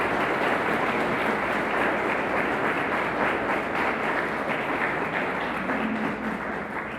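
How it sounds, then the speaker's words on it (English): Audience applause at a celebration for crisis clinicians: a thick, continuous wash of clapping from a sizable crowd, steady and full for the whole stretch with no voices on top. "Let's give them all a round of applause."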